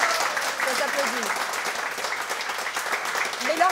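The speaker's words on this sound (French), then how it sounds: "Bravo, ça s'applaudit." A television studio audience claps in sustained, dense applause, with a voice talking over it.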